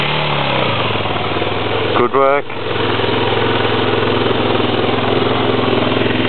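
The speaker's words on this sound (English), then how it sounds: "Give it some revs." A dirt bike engine on a first ride at Rainbow Beach runs loud and close at a steady mid-pitched drone, briefly dipping around one moment, with someone speaking over it.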